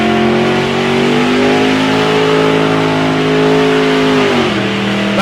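A drag racing car at a street drags event revs loud and close, engine pitch climbing through a gear before dropping at the next shift and rising again, with no talk.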